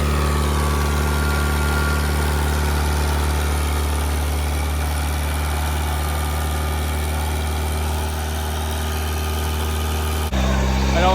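An old Ford Pinto engine running a pump idles steadily and close by, a continuous low rumble with strong harmonic hum and an even vibration that shifts slightly near the end.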